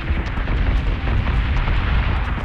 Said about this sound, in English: They are shooting the missiles, however, at the rangers